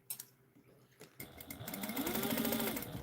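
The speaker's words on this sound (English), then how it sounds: "I'm sewing cotton on an 8700H." An 8700H sewing machine stitching cotton starts up after a second of quiet clicks, then runs in a fast, steady, close whirring rattle that builds slightly in loudness.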